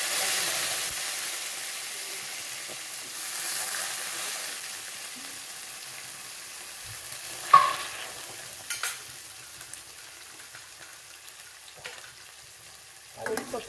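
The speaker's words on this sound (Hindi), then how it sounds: "इसको फ्राई कर लेंगे थोड़ी देर के लिए" Green chillies fry in a pan with fennel seeds, a soft, fading sizzle punctuated by a sharp spatter pop and a few stirring scrapes.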